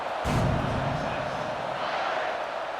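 A stadium crowd in a college football video game roars steadily around a kickoff, a dense continuous cheer with a brief louder burst near the start.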